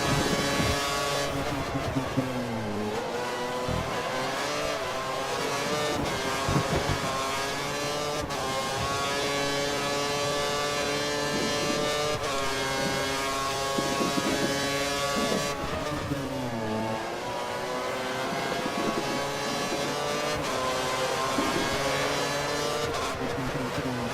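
A race car engine screams at full revs in F1 2013, a Sauber on the Spain circuit, with a continuous high-pitched howl that rises and dips briefly at gear changes, loud and steady throughout the lap.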